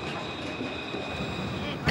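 A Melbourne tram runs along rails toward Port Melbourne, giving a continuous rumble with a faint high whine from the wheels, steady and fairly close for about two seconds.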